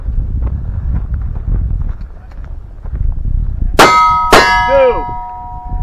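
Two sharp metallic clangs ring out in quick succession as bullets hit steel shooting targets at a desert shooting competition stage, each followed by a shimmering ring, heard over low wind noise.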